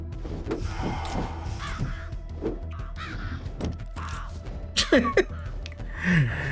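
Summoned birds attacking enemies in an action video game, a rapid series of cawing, crow-like cries and swooping effects over busy game noise, loudest in bursts near the end.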